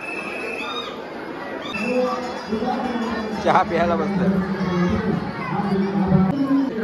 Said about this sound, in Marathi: नेहमीप्रमाणे इथं डीजेचा आणि गर्दी पूर्ण भरलेला आहे